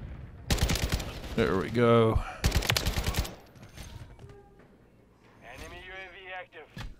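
Kastov 762 rifle fire in Call of Duty: two loud bursts of rapid automatic shots, each about a second long, with a voice speaking between and after them.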